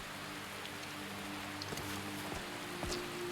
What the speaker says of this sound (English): if it's still raining